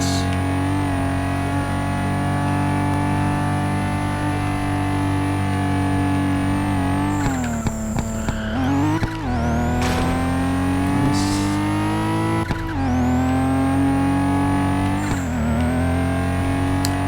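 In the Kanjozoku racing game, a pink Nissan Skyline's engine drones loudly and continuously, with several rev dips and climbs as gears shift and the car accelerates again, plus faint high whines from traffic passing.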